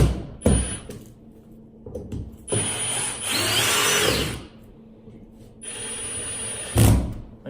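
A power drill drives screws while a round ceiling light fixture is fitted: several short whirring bursts of varying length, close and fairly loud, separated by quiet gaps with handling noise.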